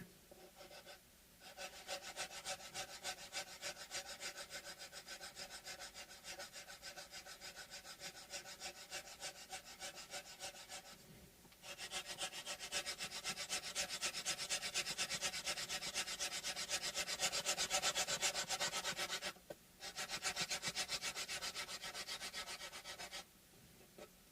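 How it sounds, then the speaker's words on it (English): Sandpaper rubbed back and forth across the wooden bridge of a Luna Henna Oasis guitar, a steady close scratchy rasp with brief pauses as the grip shifts, then a louder, harsher stretch of sanding. "I'm using different parts of the sandpaper."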